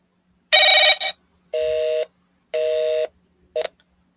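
A landline cold call: a burst of dialing tones, then three evenly spaced ringback tones about a second apart, each steady and loud, with a short clipped start of a fourth.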